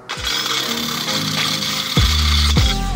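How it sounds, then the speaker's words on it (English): A small hand rasp reams out a drilled 7/8-inch hole in a bent tractor axle part to seat a bushing, giving loud, close metallic grinding strokes with sharp scraping onsets, heard alone. "All I did is I just used this little rasp."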